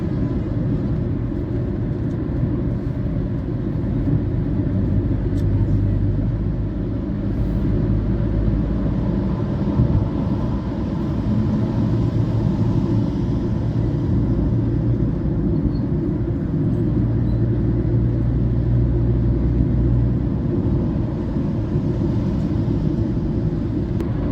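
Heavy road traffic on the Kolhapur–Pune route heard from inside an MSRTC bus, as a loud, steady low engine and road rumble that carries on unbroken throughout.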